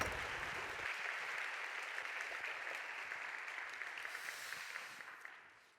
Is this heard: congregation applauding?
yes